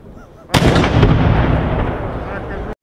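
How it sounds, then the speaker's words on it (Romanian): A military guard at the Hotel Medieval Alba Iulia fires a cannon salute on Romania's National Day; one loud, sharp boom breaks in after a quiet start and rolls into a long, echoing rumble that cuts off abruptly. "a tras 3 salve de tun."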